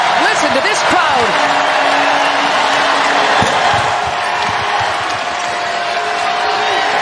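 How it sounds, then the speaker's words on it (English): Crowd noise fills an arena at an NCAA women's basketball second-round game between Gonzaga and Utah, a broad sustained roar with sneakers squeaking and a ball bouncing on the hardwood beneath it. "Listen to this crowd."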